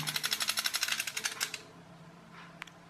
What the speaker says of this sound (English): so I'll put the screws back in